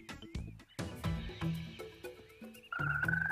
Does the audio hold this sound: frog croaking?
yes